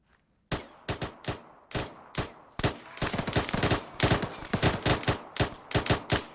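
Rapid rifle fire toward a gatehouse, loud close single shots coming in quick irregular bursts that grow denser and overlap, with almost no voices.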